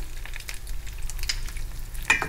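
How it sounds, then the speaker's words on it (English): Butter melting in a pan, sizzling and crackling steadily with a soft continuous fry, plus a sharper pop or stir near the end. "There you can see the butter is starting to melt."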